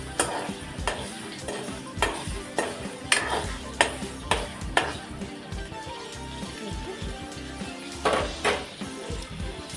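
Cumin, mustard seeds and tomato frying in a pan while a spoon scrapes and knocks against the metal in a repeated rhythm of sharp strikes over a steady sizzle, close and clear, with no talking.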